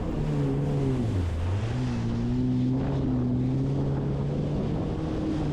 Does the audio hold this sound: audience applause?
no